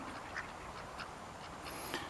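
Duck quacking by a river, a few short nasal calls spaced apart over steady outdoor background noise, fairly faint and somewhat distant.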